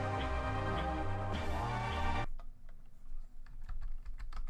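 Rapid computer keyboard typing sounds under loud music at first. Once the music cuts off, a light, quick run of keystrokes continues alone.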